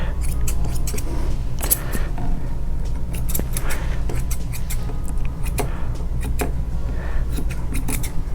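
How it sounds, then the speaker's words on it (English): Scissors snipping fur around the round foot of a Havanese dog during grooming, with close, irregular crisp clicks and snips over a steady low background hum. "It's kind of difficult getting the scissors in where they need to be"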